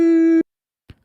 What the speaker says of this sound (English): That, ladies and gentlemen, is the dial tone that we're expecting.